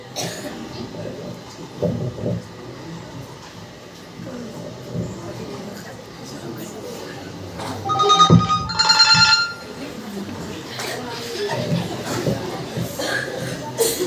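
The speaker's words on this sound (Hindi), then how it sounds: "इतने में छोटे बेटे अफान का कॉल आता है।" A mobile phone rings in a short electronic burst partway through, with muffled voices and room noise before and after.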